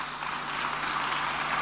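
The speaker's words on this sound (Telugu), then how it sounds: "చప్పట్లు కొట్టి దేవుని స్తుతిద్దాం." An audience claps together in praise during a Telugu church sermon, a steady dense patter of hands holding evenly throughout with no voice over it.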